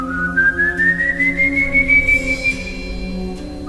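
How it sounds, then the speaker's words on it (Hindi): A single long whistle rises slowly in pitch and holds, clear and fairly loud, set in a horror story, with faint background tones beneath and no talking. "फिर दूर कहीं से विसल सुनाई दी।"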